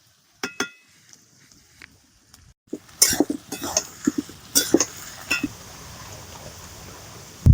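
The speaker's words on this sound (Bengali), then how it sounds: "পেঁয়াজটা কিন্তু একদম ফুল আঁচে ভাজতে হবে" Onions frying over full flame in a pan for chicken biryani are stirred with a metal spoon, giving sharp scattered clinks and scrapes against the pan over a low sizzling background, with no voices.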